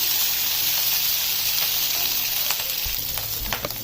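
Onions and capsicum frying in a pan for a butter naan meal, giving a steady, loud, close sizzle with soft crackles and faint stirring knocks toward the end, with no voices.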